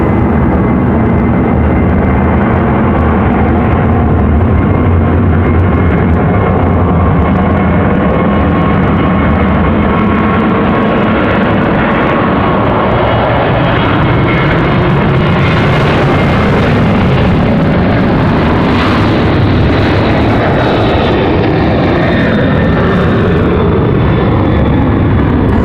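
A Breeze Airways airliner, Moxie 855 from Rochester, arrives at Raleigh-Durham International Airport with a loud, continuous rumble of aircraft engines that stays steady throughout and is heard alone.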